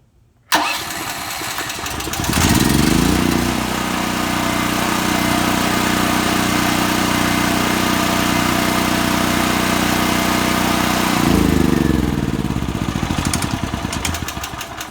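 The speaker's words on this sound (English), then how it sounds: "Now you're not going to hear me because I'm going to start it" A Generac RS7000E portable generator starts up, catching abruptly, then settles into a loud, steady mid-pitched engine drone that holds evenly before a brief surge near the end.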